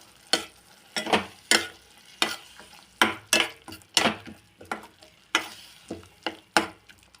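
A spoon stirs chilli powder, coriander powder, garam masala and turmeric through hot oil in a pan for soybean curry, giving about a dozen sharp scraping strokes in an uneven rhythm over a soft sizzle, close and without talk.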